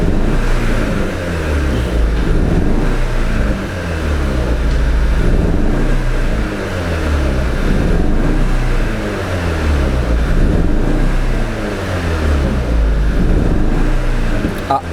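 An Audi TT engine with an ignition fault runs with one cylinder misfiring, giving a loud, close, steady low rumble with an uneven, lumpy pulse that continues throughout.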